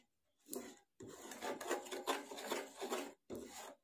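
Rhythmic scraping and rasping of a spoon stirring melting sugar in a pan on a gas stove for caramel, several steady strokes in bursts with brief pauses, close and fairly quiet.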